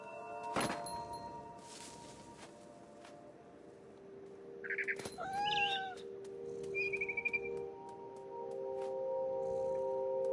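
A cat meows a few times in the video game What Remains of Edith Finch, with short, clear, close calls in the middle, set against quiet, sparse ambient game sound with occasional soft knocks.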